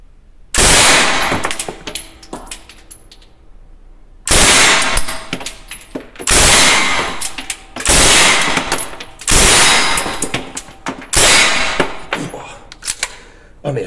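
An Uzi submachine gun fires six loud, close short full-auto bursts at a very fast rate, separated by brief pauses.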